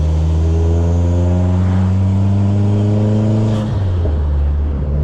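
A minivan fitted with an SRT4 engine swap, still not warmed up, revs loudly up and back down. The engine drones deep and steady and is heard alone and up close.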